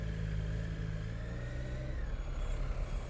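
A 2019 Triumph Street Triple RS naked bike with its stock exhaust hums from the rider's seat, a steady mid-level engine tone that lightly rises and settles alongside wind rush, without speech.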